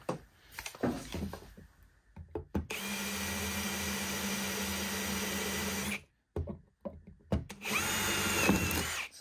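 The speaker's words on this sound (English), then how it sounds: "I'm going to go the other side and drill the hole from there." A power drill whines steadily for about three seconds, stops, then runs again in a shorter burst, with clicks and handling noise between runs.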